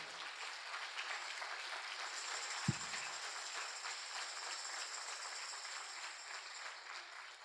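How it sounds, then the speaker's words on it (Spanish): A church congregation applauding in a Spanish-language service, steady dense clapping that fills the whole stretch at moderate distance, with one brief thud partway through. "Dale fuerte ese aplauso al Señor"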